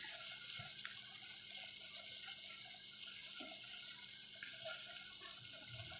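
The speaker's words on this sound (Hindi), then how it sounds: "1 कप मैं चाय का बनाऊंगी और तकरीबन आधा कप मैं इसके अंदर पानी का ऐड कर दूंगी" Water poured into a pot for masala chai spiced with cinnamon and cardamom: a soft, steady trickle and splash that runs continuously and faintly throughout, with small clinks here and there.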